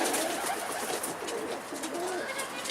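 Mardin pigeons cooing close by in repeated soft throaty calls against a constant noisy outdoor background.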